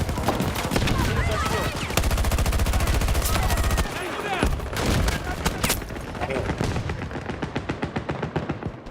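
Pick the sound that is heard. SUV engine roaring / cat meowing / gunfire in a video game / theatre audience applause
gunfire in a video game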